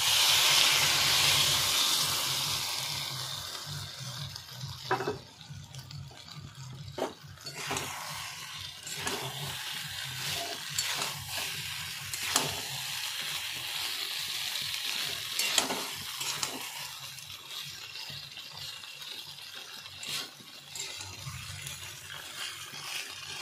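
Chilli chicken fries in a pan with a flour-and-warm-water mixture added for gravy, giving a steady sizzle broken by spoon scrapes and stirring knocks every few seconds.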